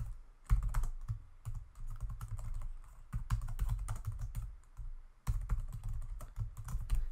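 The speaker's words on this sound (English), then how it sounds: "I just clicked on the cell and started typing" Close computer-keyboard typing while text is entered into a spreadsheet cell: quick runs of crisp keystrokes broken by short pauses, with no voices.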